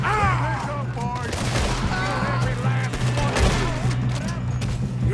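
Dense gunfire fills a Red Dead Redemption 2 shootout, a rapid overlapping barrage of shots and booms running throughout, loud and continuous, with shouting voices mixed in.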